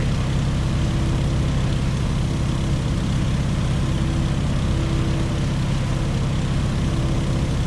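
Steady droning radial engine of a Boeing PT-17 Stearman biplane cruising in a flight simulator, a constant loud propeller hum with no change in pitch and no voices.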